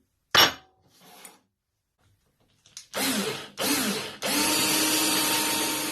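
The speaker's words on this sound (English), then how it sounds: "So, let's start drilling." A power drill whines in short bursts through metal parts of a blacksmith's leg vice, drilling 5mm holes, the first brief and sharp, then two longer runs and a sustained grinding drill at close range.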